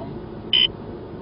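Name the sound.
radar detector Ka-band alert beeping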